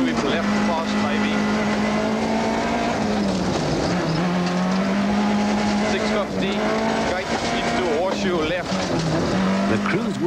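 A Nissan rally car races hard through the Zuurberg Pass stage in the 1995 Volkswagen Rally, its engine screaming loud and close with pitch rising and dipping through sweeps, tyres scrubbing as it understeers, with a voice talking over it.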